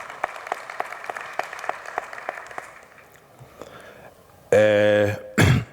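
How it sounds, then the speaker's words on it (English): Scattered, fairly light clapping from a conference audience celebrating CIGFARO's 95th anniversary, sparse distinct claps that thin out and fade, followed by a loud tonal blast and a short burst of noise. "Let's give CIGFARO a round of applause."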